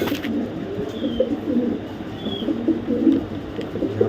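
Racing pigeons cooing in a loft, low repeated throaty coos overlapping at close range, with faint chirps and a couple of brief higher bird calls in the background.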